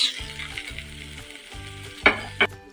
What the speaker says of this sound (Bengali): এবার আমি দিয়ে দিলাম লঙ্কা এবং কেটে রাখা পেঁয়াজ